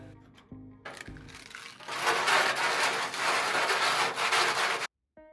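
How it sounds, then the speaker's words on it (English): A hole saw drills through a gutter downspout, then the edge is lightly sanded. A few knocks lead into a loud, rough, grinding rasp that holds for about three seconds and then cuts off abruptly. "He now drills the hole in the gutter downspout and sands it lightly to remove any rough edges."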